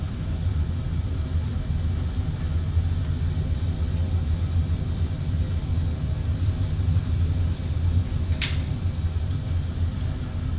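Boeing 787-8 reverse thrust during landing in Microsoft Flight Simulator, Kuro 787-8 in Aeroméxico livery arriving at Mexico City: a loud, steady low engine roar and rumble throughout, with a brief higher chirp near the end.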